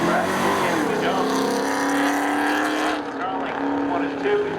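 Race cars launching side by side in a spectator drag race at Seekonk Speedway, loud engines rising in pitch as they accelerate away, then fading with a later shift, under a commentator's voice.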